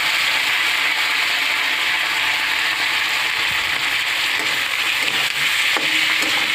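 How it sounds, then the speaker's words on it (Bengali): Boiled, cut potatoes frying in a pan while being gently stirred, a loud, dense, continuous sizzle close up with a few faint scraping stirs and no talking. "এই আলুটা আমি দিয়ে দিলাম। হালকা নাড়াচাড়া করে"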